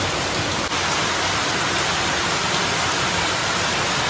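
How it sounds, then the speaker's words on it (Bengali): A heavy downpour pours down as an unbroken, loud, broadband roar of rain on surfaces, constant from start to finish with no talking. "প্রচণ্ড জোর কিন্তু বৃষ্টি স্টার্ট হয়ে গেছিলো।"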